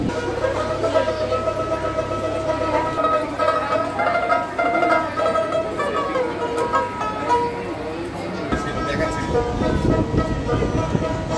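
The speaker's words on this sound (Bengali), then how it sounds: "সাত নম্বর প্ল্যাটফর্ম থেকে ছাড়লো ব্যান্ডেল নৈহাটি ট্রেন।" Bandel–Naihati local train pulling out of platform seven at a station, with a steady low rumble, a few horn toots and people talking nearby.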